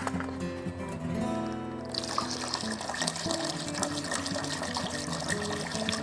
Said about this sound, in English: let's hook up the pump and fill it with water and start our fan up